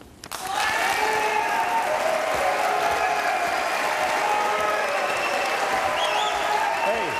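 A town hall audience at a Virginia U.S. Senate race event bursts into sustained applause welcoming a candidate to the stage, steady dense clapping starting abruptly and holding loud throughout, with faint voices mixed in.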